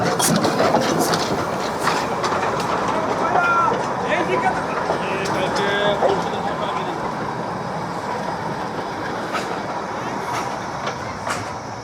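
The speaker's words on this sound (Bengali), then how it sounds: "তার সামনে দিয়ে যাচ্ছে এই যে টয় ট্রেন" A Darjeeling toy train rolls past at the Batasia Loop with a continuous rumble and faint rail clatter, heard at moderate distance under steady crowd chatter and voices.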